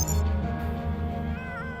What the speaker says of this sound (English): It just walks around, well, not just the meows, but it like walks around purring and making other weird background noises.